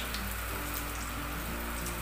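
Banana flower vadai fritters frying in hot oil over a medium flame, a brief, steady bubbling hiss heard close and alone.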